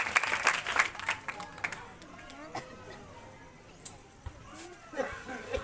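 A seated gathering in a street gives a brief burst of applause at the start, fading quickly into quieter room noise with scattered claps and a voice later on.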